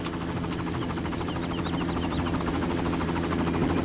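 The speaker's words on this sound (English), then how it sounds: "There's gonna be some guys coming out of the helicopter." A helicopter in the video game Far Cry makes a steady rotor thump and engine drone. The rhythmic chopping pulses stay loud and close throughout, with no speech over them.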